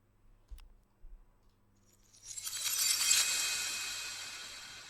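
Glass shatters in a stock sound effect: a couple of soft low knocks give way to a bright, rising burst of breaking and tinkling shards that swells and slowly fades, heard alone.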